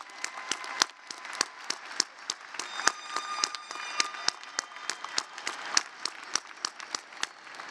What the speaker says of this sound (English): can I get a round of applause for all the family members and friends with us today?